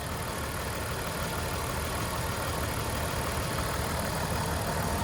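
A Jeep ZJ with a 4-liter straight-six engine idles nearby, giving a steady, even mechanical rumble with no pauses and no talking.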